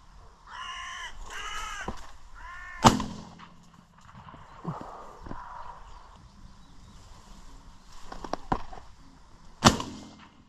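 A crow caws several times in quick succession, followed by sharp, loud shotgun bangs from a crow hunt that ring out across open fields.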